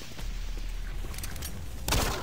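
Pistol shots in Doom 3 sound as a rapid burst of gunfire over a low rumbling background, ending in a louder blast.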